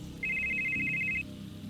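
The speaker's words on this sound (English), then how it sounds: "So, Bear, your phone starts to go off. Ringing." A phone rings with an incoming call, giving a bright electronic double-toned trill that holds steady for about a second over a low background hum, with no talking.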